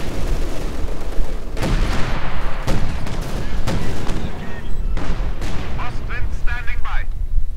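Artillery and mortar fire in the video game Company of Heroes 2 booms in a series of loud blasts and crackling impacts, with a commentator talking over the battle throughout.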